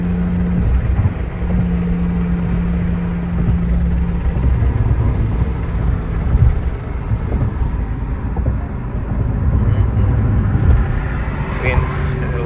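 Inside a tuned 900 hp Porsche 911 Turbo on the move, the engine and road noise form a loud, steady drone with shifting tonal whines, while voices are heard over it at times.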